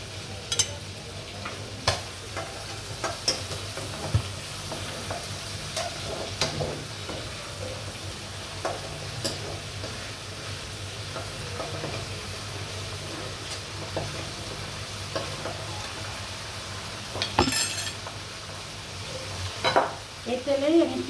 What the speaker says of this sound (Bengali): মুরগিটা হালকা আমি ভাজা দিয়ে নিয়েছি। আমি এখন উঠাই ফেলবো।